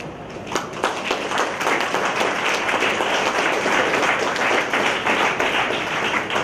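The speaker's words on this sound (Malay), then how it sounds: "Mari kita berikan satu tepukan gemuruh" An audience at a school launch ceremony gives a long, even round of applause, a dense roomful of clapping with scattered sharper claps standing out near the microphone.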